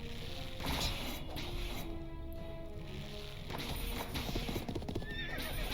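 Horses in the Symphony of War video game clatter in a dense gallop of hoofbeats while neighing and whinnying cut through the battle noise at moderate, steady loudness.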